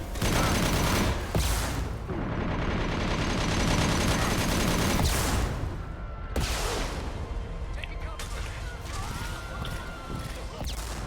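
Weapon firing impact shots in Mass Effect 2 combat: loud bursts of gunfire and booming blasts in dense, repeated volleys, with several sharp crashes and a noisy battle bed throughout.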